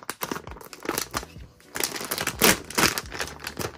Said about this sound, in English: Let's grab my scissors and open this bag.